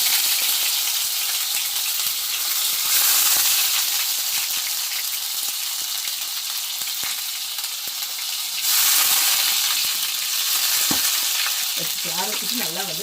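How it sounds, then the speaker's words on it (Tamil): Onions sizzle loudly in hot oil in a pan for an egg curry, a dense continuous crackle with occasional stirring scrapes and no talking. "இப்போ எண்ணெயில் வந்து வெங்காயம் போட்டாச்சு"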